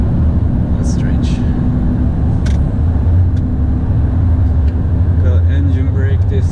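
A truck and trailer rolls under engine braking, a loud, deep, continuous rumble that holds steady in the cab while a voice speaks over it.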